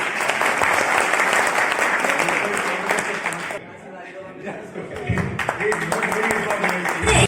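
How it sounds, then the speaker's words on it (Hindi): Loud applause from a crowd at a Safe Shop victory celebration in Jorhat, dense at first, then briefly thinning before swelling again as a voice breaks through near the end. "शर्मा जी के लिए जोरदार ताली बजाइए"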